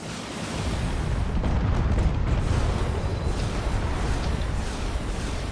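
A battleship destroyed in a space video game, heard as a sustained, roaring explosion rumble, deep and dense, holding steady across several seconds without a break.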